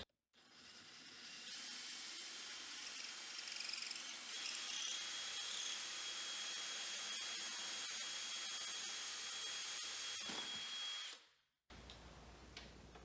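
Power drill boring a hole through the panel of an arcade fight stick to mount a spinner, one long steady whine lasting about ten seconds before stopping abruptly, followed by a brief clatter.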